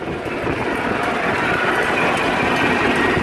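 A John Deere 39 sickle bar mower runs on a John Deere Model 60 tractor, giving a steady, loud mechanical roar and rattle that holds evenly throughout, with no talking.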